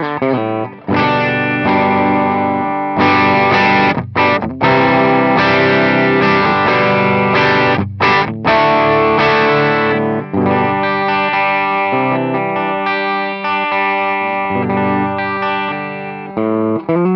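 Electric guitar played through an Ibanez TS9 Tube Screamer overdrive pedal with gain lowered, volume and tone at half, loud driven chords and notes ringing continuously with brief gaps, no talking.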